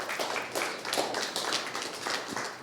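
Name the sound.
audience applause for Andrea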